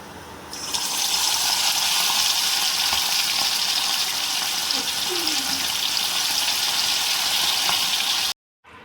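Marinated prawns deep-fry in hot oil with a loud, steady sizzling hiss that carries on unbroken for about eight seconds before cutting off abruptly.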